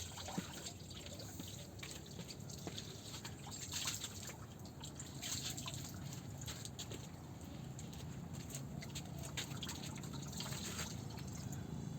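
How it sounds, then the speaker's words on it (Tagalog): Tap water runs steadily while hands are washed, a continuous close splashing trickle with small drips throughout. "Hugas mo na ako ng kamay."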